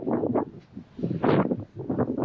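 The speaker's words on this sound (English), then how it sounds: "It's really blowy down here at the moment." Gusty wind buffeting a microphone at a beach at Blue Haven, Esperance, rising and falling in loud rumbling waves throughout with no clear voices.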